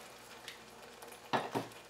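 Spoon stirring paneer masala gravy in a pan, a couple of quick soft scrapes and clinks against the metal, quiet and close.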